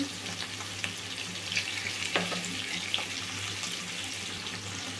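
Baby potatoes seasoned with salt and chili powder fry in a pan, giving a steady close sizzle with scattered crackles and light stirring scrapes throughout, over a low background hum.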